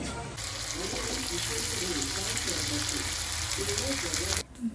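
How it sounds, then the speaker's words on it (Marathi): Edible gum (dink) sizzles in hot ghee in a pan while being roasted for fenugreek ladoos, giving a steady, dense frying hiss for most of the clip before it cuts off near the end. "पहिले डिंक फ्राय करून घेतो"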